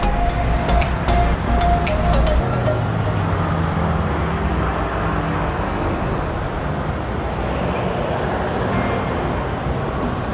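Road traffic rolls along a street in Iloilo, Philippines, a continuous broadband roar of passing cars and buses, with a brief low engine rumble early on and a few faint high chirps near the end.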